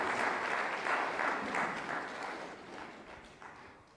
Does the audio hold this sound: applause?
yes